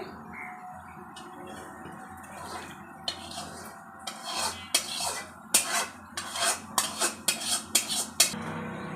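Meat being stirred into pulao rice in a pot for biryani: a spoon scrapes and clinks against the metal pot in a quick series of close, sharp strokes, growing busier toward the end, with no talking.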